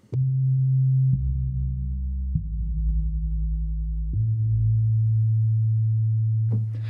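A deep, sustained synthetic bass layer of a sampled virtual instrument plays a few long held notes, each shifting to a new pitch, smooth and steady with no other sounds.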